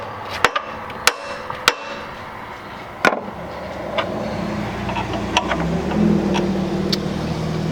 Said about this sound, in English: Time for the hammer.